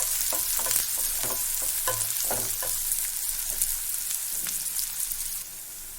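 Onions frying in a pan for tomato egg gravy, a dense steady sizzle with repeated spatula scrapes and taps as they are stirred, close and loud, the hiss dropping slightly at the end.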